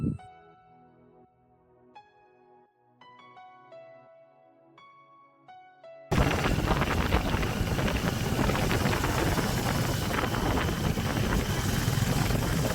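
Strong wind roars against the microphone on a motorbike ride from Siliguri to Mirik. Soft melodic music plays at first, then a loud, steady broadband buffeting takes over for the second half, with no talk.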